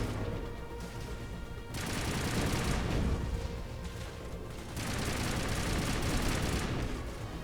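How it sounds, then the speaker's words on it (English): Sustained bursts of rapid gunfire and explosive bullet impacts in the video game Mass Effect, two dense stretches of shooting separated by brief lulls, fairly quiet overall. "I was shooting that guy and I'm damaging him just from the explosions of the bullets themselves"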